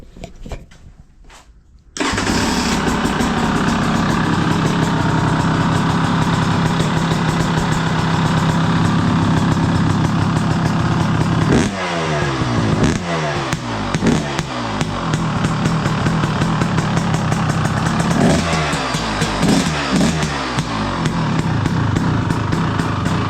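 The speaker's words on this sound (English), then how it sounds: "who don't like the sound of a good running 300 two-stroke?" A 2025 KTM 300 XC two-stroke dirt bike starts after a quiet moment, then runs loud and close with a raspy idle and several sharp throttle blips that rise and fall.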